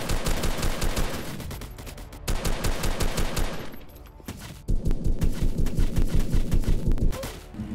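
Rapid bursts of gunfire from shotguns and automatic weapons in the online shooter Armored Assault, in a base-capture match, loud and continuous with brief pauses between volleys.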